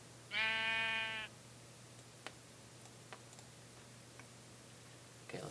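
Sheep bleats in Minecraft, one clear harmonic bleat near the start lasting about a second, then quiet game ambience with faint ticks and a low steady hum.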